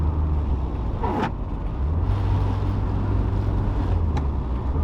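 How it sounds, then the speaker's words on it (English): A Toyota Starlet fitted with an automatic gearbox downshifts while driving, with a steady engine and road rumble throughout and a brief change in the low engine note partway through. "What about downshifting? How does that go?"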